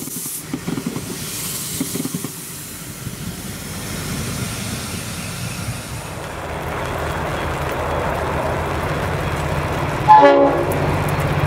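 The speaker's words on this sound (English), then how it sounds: "N454 and its intercity train is returning to Melbourne from Shepparton" An N-class locomotive hauling an intercity train back to Melbourne from Shepparton rumbles past, its steady low roar building as it nears, with a brief horn-like burst near the end.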